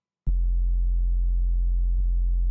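A sub bass sine wave tone starts abruptly and holds steady and loud, a pure low hum with a brief click partway through.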